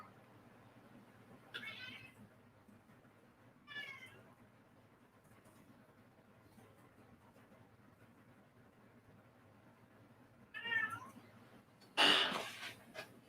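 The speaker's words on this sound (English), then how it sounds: "Be quiet, cat." A cat meows indoors several times, two faint mews early, then a louder drawn-out cry near the end, separated by quiet room hum and followed by a brief sharp noise.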